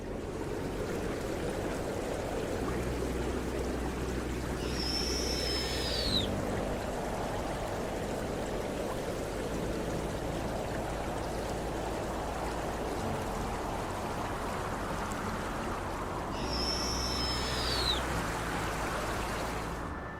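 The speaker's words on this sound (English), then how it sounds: "Vikakungas River is famous for its roaring rapids and magnificent natural scenery." The roaring rapids of the Vikakungas River in Finland make a steady, broad wash of rushing water that never lets up, with two brief high chirps rising above it.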